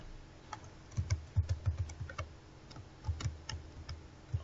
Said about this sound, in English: Type http localhost followed by the program name